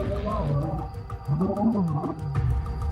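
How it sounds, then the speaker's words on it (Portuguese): Mapogo lions fighting fill the air with deep, rumbling roars and snarling growls, close and continuous, the low calls rising and falling throughout. "ouviu rugidos e rosnados"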